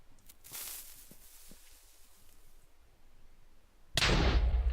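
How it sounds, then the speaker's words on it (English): Minecraft TNT blast in a video game: a quiet lull with faint clicks, then a sudden loud burst near the end that roars on to the close. "So let's put another TNT right here. Fire in the hole."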